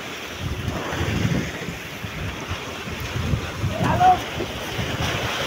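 Sea waves slosh and wash around a boat moored to a mother boat amid gusty wind noise, with a voice briefly heard over the water.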